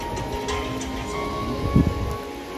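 Heavy rain pours down outdoors beside a queue of people, a steady, dense hiss of falling water with a soft low rumble partway through.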